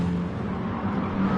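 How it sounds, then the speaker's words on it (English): Loud, continuous engine roar of a 2016 BMW M6 GT3 race car in a racing video game at Interlagos, holding a steady, slightly wavering pitch through a corner. "2016 BMW M6 clipping that apex, maximizing track widths."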